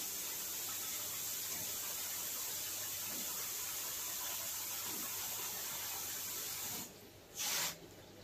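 Tap water pours steadily into a 65-litre goldfish aquarium during a water change, a continuous close hiss and splash that runs almost unbroken before cutting out briefly near the end.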